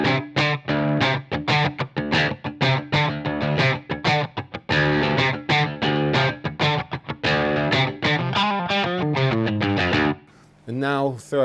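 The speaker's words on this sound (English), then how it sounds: "So this is the sound of the amp and the guitar." An electric guitar played through an amp with no compression, sounding distorted and effects-laden as it rings out sustained chords and notes up close, then breaks off into a short noisy burst at the very end.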